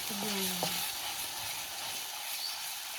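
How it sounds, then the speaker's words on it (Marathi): Gravy paste for a spicy crab curry being stirred in a frying pan over a wood-fired clay stove, a soft steady sizzle with gentle scraping, close and quiet, with no talk. "ग्रेव्ही असं मिक्स करून घ्यायचं, सगळं एकजीव करून घ्यायचं"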